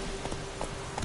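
Roach the horse trots in The Witcher 3, giving a few quick, muffled hoof clops over a steady background hum.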